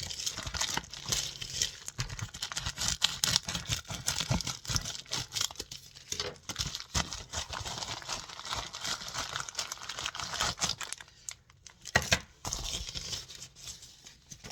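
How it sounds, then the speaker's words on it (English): A mail-order package of nail art supplies is opened. Plastic and paper packaging crinkles and tears continuously and close up for several seconds, with a short pause near the end and no talking. "let's get to opening this package."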